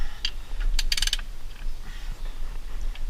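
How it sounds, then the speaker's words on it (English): A tightening stroke on the three-point adjuster of an IH 1466 tractor, with a few sharp metallic clicks and ratcheting clacks early on over a steady low mechanical rumble, no voices. "Okay, ready for that tightening stroke."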